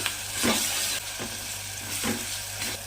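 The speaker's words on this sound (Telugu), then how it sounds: "ఉల్లిపాయ ముక్కలు త్వరగా మగ్గాలంటే ఉప్పును కూడా యాడ్ చేసేసుకొని చక్కగా దోరగా ఫ్రై చేసుకోవాలి" Sliced onions frying in a pan with salt and turmeric, a close, bright sizzle broken by a few rhythmic scraping stirs of a spoon.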